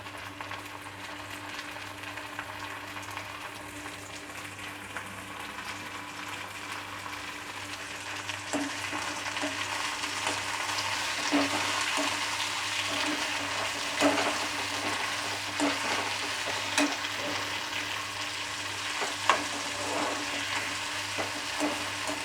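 Tomatoes and green chillies frying with cooked onions for tomato rice, a steady hissing sizzle that grows fuller partway through, broken by occasional soft stirring clicks, close and continuous with no talk.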